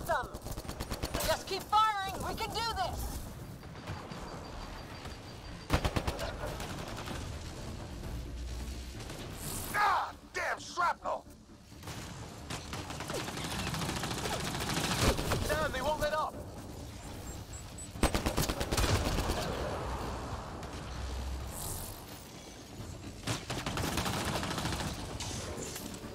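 Sustained automatic gunfire and bursts of shooting from a Mass Effect Andromeda combat scene, with rattling volleys, impacts and people talking throughout, fairly loud and continuous.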